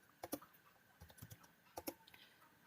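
Search being typed on a computer keyboard, a few quick clusters of soft, close key clicks with short pauses between them, faint overall.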